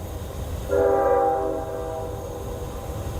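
A train passes at night near a forest campsite, a single loud harmonic horn blast lasting under a second, riding over a steady low rumble of the rail traffic.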